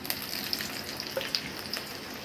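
Whole spices sizzle and fry in hot oil in a pan: bay leaf, dried chili, cinnamon and cardamom. The frying is a soft, steady crackle with a few faint pops and no voices.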